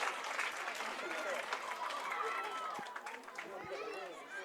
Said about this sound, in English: The Armagh crowd down to my right love it.